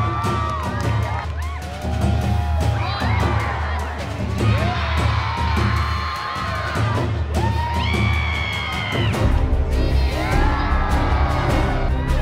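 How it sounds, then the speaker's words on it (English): A crowd cheers at an outdoor fire show, loud whoops, shouts and yells from adults and children rising in waves over a steady low rumble, with occasional bangs. "Crowds are waiting in anticipation"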